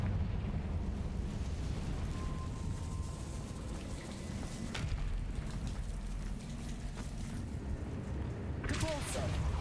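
Confringo fire blast spell in a Hogwarts video game, a roaring crackling burst of flame with a rushing rumble that sustains for several seconds, with a brief sharper flare near the end.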